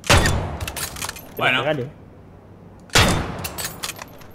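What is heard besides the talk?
hunting rifle shots in video game Dead Island 2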